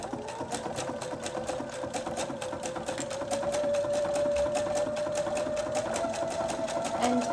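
A sewing machine stitches a bridging stitch with a reinforced start, running steadily and close with a fast, even rhythm that grows slightly louder partway through.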